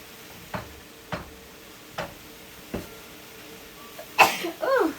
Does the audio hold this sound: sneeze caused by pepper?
yes